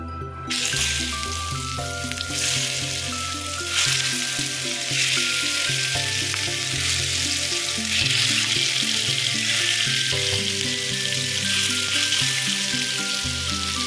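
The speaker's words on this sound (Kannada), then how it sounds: "ಈ ಬಿಸಿಯಾದ ಎಣ್ಣೆಗೆ ಇಲ್ಲಿ ನಾನೊಂದು ಅರ್ಧ ಗಂಟೆ ಮ್ಯಾರಿನೇಟ್ ಮಾಡಿಟ್ಕೊಂಡಿರುವಂತಹ ಈ ಫಿಶನ್ನು ಹಾಕ್ತೀನಿ ನೋಡಿ" Marinated basa fish drops into hot oil and fries with a loud, continuous crackling sizzle, close up, under steady background music and no speech.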